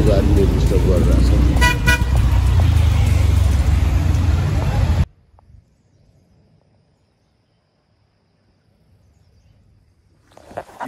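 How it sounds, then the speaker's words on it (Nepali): A garbage truck on a Kathmandu street at night rumbles loudly and close, with a horn toot over the engine. The noise cuts off abruptly, leaving near silence before faint traffic returns. "फोहोरको गाडीले डिस्टर्ब गरिरहेछ"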